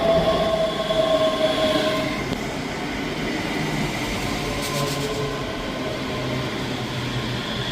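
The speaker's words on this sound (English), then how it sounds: "Arriving in now is the 11:29 Scotrail service from Glasgow Queen Street to Edinburgh Waverley" A ScotRail Class 385 electric train pulls into Edinburgh Haymarket station on the Glasgow Queen Street to Edinburgh Waverley service, with a steady rumble and a brief high wheel squeal early on, loud and close throughout.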